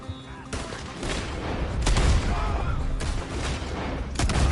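Gunfire in Red Dead Redemption II: a rapid exchange of close, loud shots and cracks over a rumbling background, with sharp bursts spaced through the clip.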